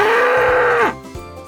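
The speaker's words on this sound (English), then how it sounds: "That's right, it's a bull." A bull gives one loud, close, drawn-out moo that drops in pitch at the end, followed by a short grunt.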